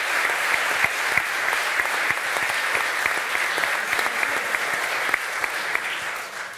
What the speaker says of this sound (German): Einen riesigen Applaus bitte